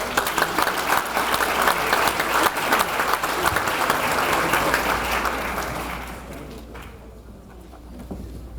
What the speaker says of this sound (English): Please give these girls a warm round of applause.